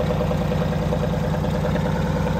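The engine of a 1985 Blue Bird Wanderlodge motorhome idles with a steady, deep, rumbling drone, loud and close, holding an even throb throughout with no voices.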